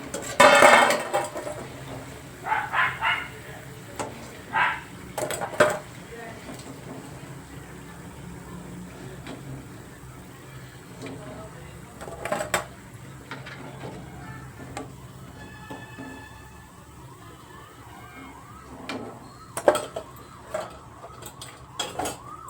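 Scattered metallic clinks and scrapes of a utensil against a metal bowl as punugulu fritters made without refined flour are lifted out, over a low background bubble of frying oil.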